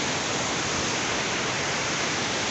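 The waterfall at Brás Gomes, in Floresta OMI, gives a constant, close, full hiss of falling water with no variation and no voices.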